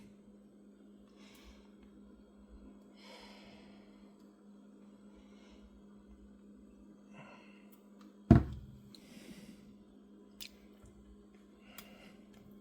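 Nutella cottage cheesecake filling is stirred over an almond and hemp heart crust, giving faint, intermittent soft squishing strokes over a low hum, then one sharp thunk followed by a few quieter knocks.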